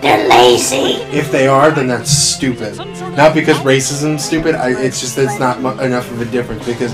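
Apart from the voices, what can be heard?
No everyday noise stands out behind the speech.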